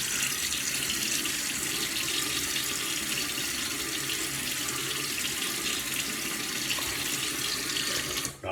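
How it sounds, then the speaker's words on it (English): Tap water runs steadily into a sink while a face is wetted before a shave, a loud, even splashing rush that continues throughout and cuts off abruptly at the very end. "Let me get my face wet."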